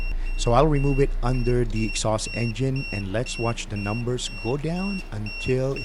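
A carbon monoxide detector held near an engine exhaust beeps repeatedly in short, high, evenly spaced pulses while someone talks over it close by.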